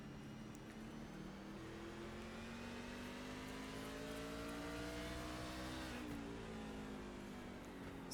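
A race truck in iRacing at Martinsville Speedway drones under throttle with a steady, loud engine tone that climbs in pitch, then dips and recovers, heard alone with faint tire noise.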